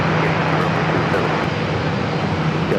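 American Airlines Boeing 737-800 at San Diego airport, a dense, constant engine roar that stays loud and even throughout the short stretch, with no voices over it.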